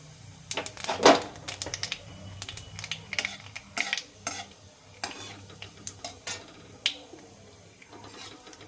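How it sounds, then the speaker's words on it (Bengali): Black cumin seeds frying in a small amount of oil, quiet crackling under repeated clicking stirs and scrapes of a utensil against the pan. "কালো জিরেটা যখন বেশ সুন্দর ভাজা হয়ে যাবে"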